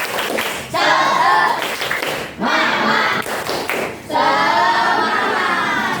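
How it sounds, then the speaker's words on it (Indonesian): A group of schoolchildren performs a rhythmic spirit clap in a classroom, loud bursts of patterned clapping mixed with shouted chanting voices, coming in three distinct waves separated by short pauses. "Udah, tepuk semangat."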